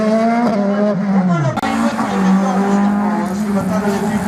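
A race car at a slalom event in Agon-Coutainville screams past at high revs, its engine note climbing and shifting through gears close by and loud, while an announcer talks over it.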